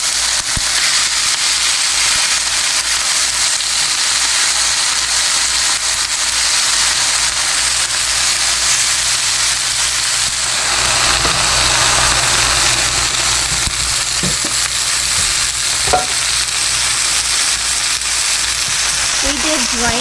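Cheesesteak meat seasoned with salt and pepper sizzles on a hot griddle, a loud, dense frying hiss running throughout, joined by a low engine-like hum and a few brief clatters later on.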